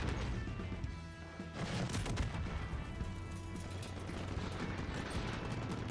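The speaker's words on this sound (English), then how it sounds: "I got my head fucking taken off by a rocket at the end." A rocket explosion killing the player in a shooter video game, a loud crashing blast amid dense gunfire and chaotic battle noise that continues throughout.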